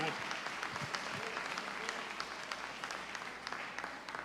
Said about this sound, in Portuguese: Aplauda aos céus pela tua comunhão com o Senhor